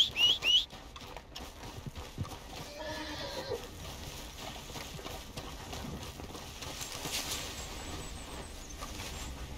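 Horse hooves clip-clopping in Red Dead Redemption 2, faint and steady under a low ambient game soundscape.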